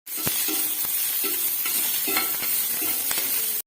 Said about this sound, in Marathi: पहिल्यांदा कांदा पर भाजून घ्यायचा थोडंसं तेल टाकायचं